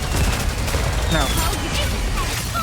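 Massed gunfire from many guns at once in a video game, a dense continuous crackle of rapid shots with booming low rumble, loud and unbroken under faint talk.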